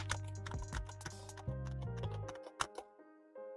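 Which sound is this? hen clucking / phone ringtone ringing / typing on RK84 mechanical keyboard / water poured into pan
typing on RK84 mechanical keyboard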